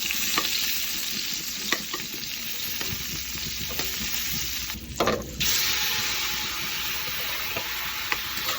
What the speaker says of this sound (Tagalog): Magpainit ka na ng mantika. Pag mainit na hawakan mo para mapasuka, isunod ang bawang, sibuyas at ang karne